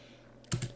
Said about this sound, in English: in our mel command line here, we're going to be typing in the script for that